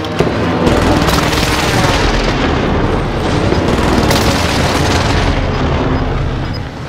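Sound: airstrike explosions in Call of Duty Warzone video game

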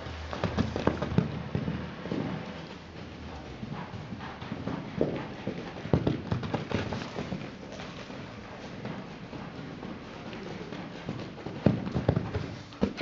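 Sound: horse running, hooves clip-clopping

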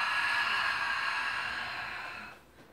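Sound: exhaling through the mouth

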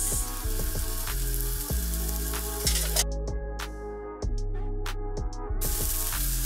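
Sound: onions frying in a pan for prawn noodles

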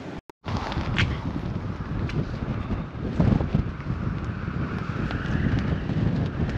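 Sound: wind blowing

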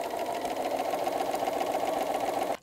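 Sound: sewing machine stitching fabric

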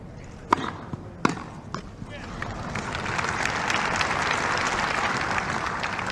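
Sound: Wimbledon crowd cheering and applauding

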